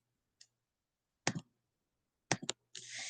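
A few sharp computer mouse clicks while opening a Google Slides file, brief isolated taps spaced apart and close to the microphone in a quiet room.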